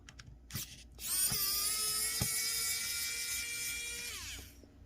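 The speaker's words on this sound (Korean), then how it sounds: "이제 나사를 풀어내고" Screws come out of an anyclear hand warmer as it is taken apart: a few light clicks, then a power driver whines steadily at close range for about three seconds before winding down.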